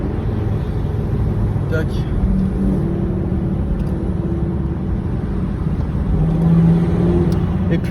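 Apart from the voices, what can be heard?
Volvo V50 R-Design turbo diesel with Akrapovic exhaust accelerating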